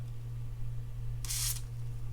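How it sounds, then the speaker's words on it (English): A spray can of Corrosion X gives one short, bright hissing burst into the housing of a Penn Fierce 6000 spinning fishing reel, lasting about a quarter second against a steady low hum. "I'm going to spray some corrosion X inside here"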